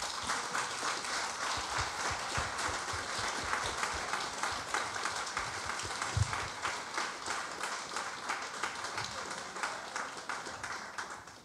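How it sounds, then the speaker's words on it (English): Steady audience applause fills a student representative awards ceremony, dense continuous clapping from a sizeable crowd at even loudness throughout, with no voices over it. "Give yourselves a round of applause"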